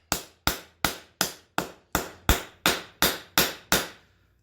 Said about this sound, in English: Keep forging it from side to side, try and keep it even.